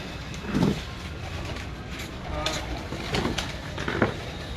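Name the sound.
breeder pigeons cooing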